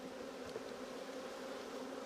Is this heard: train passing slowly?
no